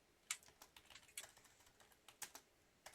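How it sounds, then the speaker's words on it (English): Typing on a computer keyboard: quiet, sparse key taps in an irregular rhythm, a few sharper clacks standing out, recorded close in an otherwise silent room. "Get my typing right."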